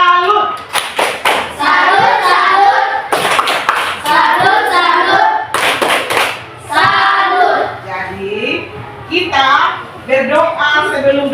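A school class performs a rhythmic salute clap, loud close bursts of patterned hand claps and slaps in quick groups, mixed with children's voices chanting and talking between the clapping sequences.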